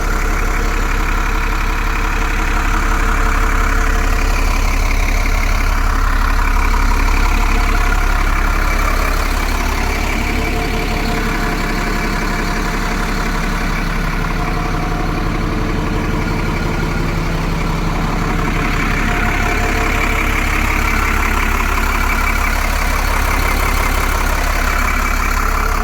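Vintage bus engine idling at the Bridgeton bus museum in Glasgow, a loud, steady, deep rumbling diesel idle that holds on continuously with slight swells in intensity.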